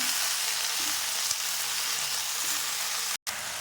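Dindigul country coriander pickle mixture sautéing in a pan, a steady close sizzle and crackle of frying with faint stirring, continuous and loud throughout with a brief cut of silence near the end.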